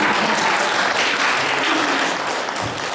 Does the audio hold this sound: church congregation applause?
yes